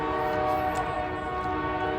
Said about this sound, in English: we're in the South and the train's rolling through and we got to stop